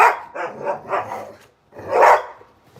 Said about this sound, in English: Dog attacks man and pays the price.